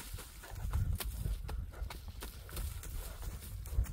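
A horse walking at a market, hooves clip-clopping in a steady, fairly faint rhythm with low rumbling background noise.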